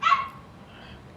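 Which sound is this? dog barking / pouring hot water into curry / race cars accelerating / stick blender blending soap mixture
dog barking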